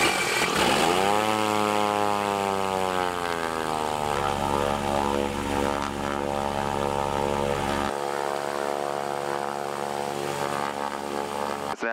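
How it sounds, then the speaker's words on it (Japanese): A Diamond DA40 aircraft engine starts up: the propeller whine climbs in pitch over the first few seconds, then settles into a loud, steady drone heard from inside the cabin. "はい、エンジンスタート行います。"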